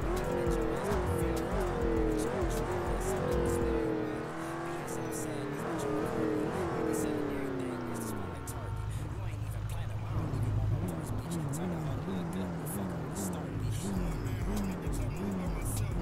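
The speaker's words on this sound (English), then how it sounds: "This car sounds good." A revving race car engine in the video game GTA 5 FiveM whines up and down through gear shifts, loud and close, with tire noise and a brief drop to a lower drone.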